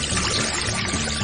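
Water pouring and splashing steadily from a toy kitchen faucet, close and continuous for just over a second.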